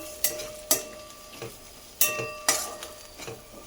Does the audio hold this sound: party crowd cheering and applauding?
no